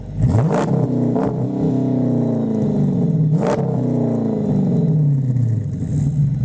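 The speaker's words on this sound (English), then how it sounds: "we're going to check out the exhaust now." A 2009 Dodge Challenger R/T engine idles with a deep, steady exhaust burble, broken by three sharp throttle blips that rev up and fall back, heard up close with no talking.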